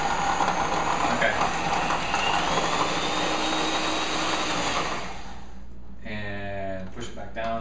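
A blender grinds hummus ingredients in a loud, steady whir that runs for about five seconds, then the motor cuts to a lower, uneven churn as the blend slows.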